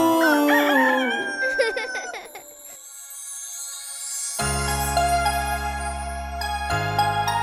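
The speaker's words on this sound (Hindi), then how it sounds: "मुर्गा बोले कुकड़ूकू" A cartoon rooster crows cock-a-doodle-doo in a Hindi nursery rhyme, a loud stylized call with music and sung backing around it.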